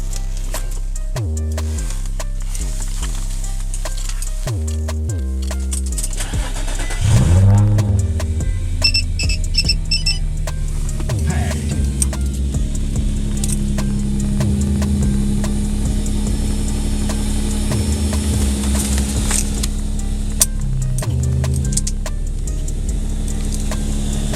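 Infiniti G35 cranking and starting after a fuel pump assembly replacement, with a short crank followed by a steady idle that carries on near and loud, with a faint high whine above it.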